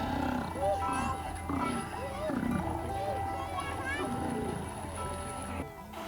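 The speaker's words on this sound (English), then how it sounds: "The low-frequency vocalizations that stellar sea lions produce often sound more like roars" Steller sea lions give deep, drawn-out roars, several rising and falling calls overlapping one after another at close range, over a constant wash of background noise in a northern boreal coastal setting.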